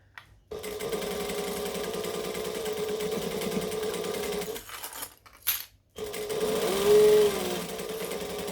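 A sewing machine stitches a seam alongside a pocket, running in long steady bursts with a brief pause and a few clicks and fabric handling noises between runs, close and clear.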